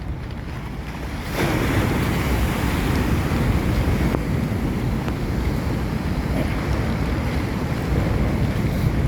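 Strong sea waves crash at the Kizhur river mouth in Kasaragod, mixed with rushing rainwater, a loud, constant roar of surf and wind buffeting the microphone, surging up after the first second.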